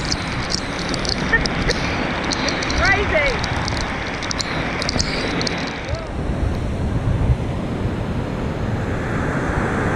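A large waterfall swollen by heavy rain roars in a dense, continuous wash of rushing water, loud and steady throughout, with wind buffeting the microphone and faint voices briefly under the noise.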